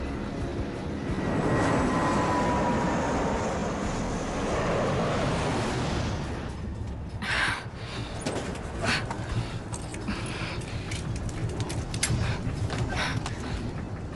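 A loud, steady roar of a jet engine fills the first half, then fades into a rumbling, gusty hum with scattered bumps.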